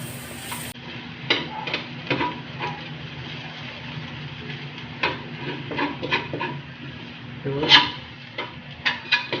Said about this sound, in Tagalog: pag nagigisa, inauna po yung bawang.